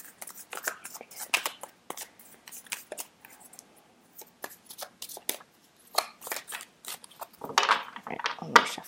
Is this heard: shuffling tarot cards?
yes